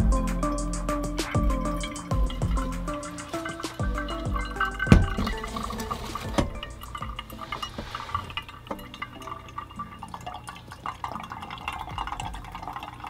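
Hot water poured slowly into a pour-over coffee brewer at an ice fishing camp, a close, continuous trickle with glassy clinks and drips that gradually softens and thins out.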